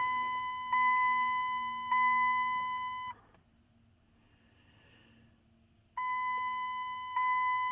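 A loud electronic beeping tone from a vehicle in cold weather pulses in steady, repeated bursts, stops for a few seconds, then resumes. No one speaks.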